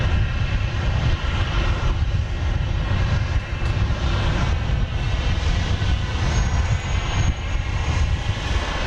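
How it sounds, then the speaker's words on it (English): A Southwest jet airliner at Dallas Love Field roars steadily and loudly overhead, a continuous broadband engine rumble with a high whine on top that holds for the whole stretch with no talking. "Coming our way at this time is this Southwest jet, which is not on my radar."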